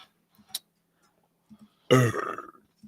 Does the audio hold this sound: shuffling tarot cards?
no